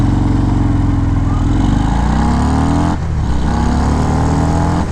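A 2019 Harley-Davidson FXDR 114 motorcycle accelerates hard from 0 to 60, a loud, close engine roar rising in pitch through the gears with a brief dip at a shift, no talking.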